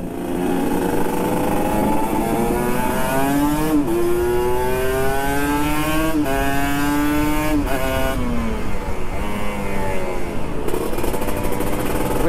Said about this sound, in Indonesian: Nabi Lambing ini punyanya motor bagus ki. Kita tes dulu